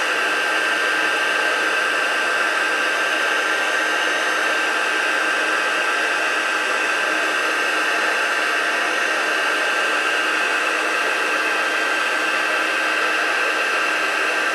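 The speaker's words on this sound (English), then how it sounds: "Once your heat tool is hot, it doesn't take quite as long" A craft heat tool blows hot air steadily for a card-making water bleaching technique, a loud constant hiss-like whoosh close to the mic with no talking.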